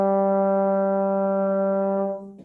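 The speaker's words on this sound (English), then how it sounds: "So we're going up to G, trombones and baritones." A brass instrument, trombone or baritone, holds a single sustained high G for about two seconds, steady and fairly loud, then quickly fades out, with no talking over it.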